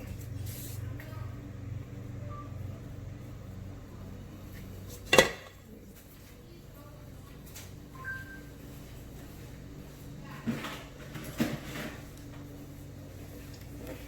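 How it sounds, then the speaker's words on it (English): A spatula scrapes icing off a frosted four-layer cake: quiet, faint scraping strokes with one sharp metallic clink and a few lighter taps. "I'm just scraping off some of my icing, that way I can finish using my first batch."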